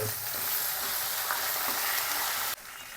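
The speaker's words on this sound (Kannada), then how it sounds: "ಹಸಿಮೆಣ್ಸಿಕಾಯನ್ನು ಫ್ರೈ ಹೊಡ್ಕೊಂಡ್ಬಿಡೋಣ" Green chillies fry in a pan with a loud, continuous hissing sizzle and scraping stirs, which drops suddenly to a softer crackle near the end; no one speaks.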